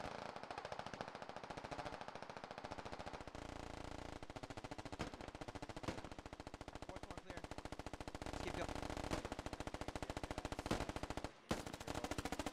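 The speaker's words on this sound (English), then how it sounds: "Burn up all your rounds there, Daltus." Sustained automatic gunfire in the tactical shooter Squad, rapid bursts of rounds firing almost without pause for the whole stretch, loud and dense, with a brief gap near the end.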